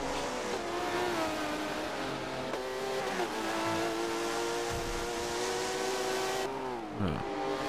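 Race car engine in Forza Motorsport 7 at Brands Hatch, England, holding a loud steady high rev that climbs through gears, with a sharp downshift dip near the end, close and continuous with no talk.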